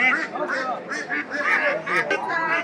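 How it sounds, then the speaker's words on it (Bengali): Domestic ducks at a village livestock market in Dharabazar, Haluaghat, quacking in a dense, overlapping chorus that is close and continuous with no pause. "অনেকগুলো হাঁস"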